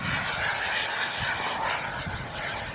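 A Boomerang Jets Ranger RC jet flies past, making a loud, steady turbine whoosh and roar that holds throughout the short stretch.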